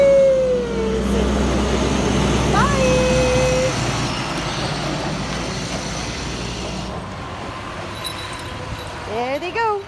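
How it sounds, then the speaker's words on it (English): An oil delivery truck runs on a farm, giving a steady, heavy low rumble that is strongest early on and eases later, with a few brief higher tones over it. "Got the big truck filling up the oil today."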